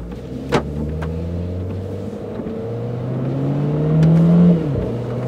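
Renault Clio 4 RS engine pulling away gently in first gear, a steady low drone that rises in pitch and swells briefly before easing, heard from inside the car with no talking.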